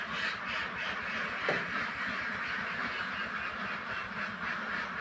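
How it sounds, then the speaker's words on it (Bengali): A flock of farm ducks quacks steadily and densely at close range as they are released from their shed on a Bengali duck-egg farm, a continuous clamour with no talk over it. "আমরা এখন হাঁসদের বের করে দেব।"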